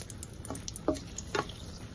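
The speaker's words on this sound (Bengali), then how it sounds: "তার মধ্যে শুকনো লঙ্কা আগে ভেজে নিচ্ছি।" Dried red chillies frying in hot white oil in a pan, a soft steady sizzle with a few brief crackles and pops, close and fairly quiet, with no talking.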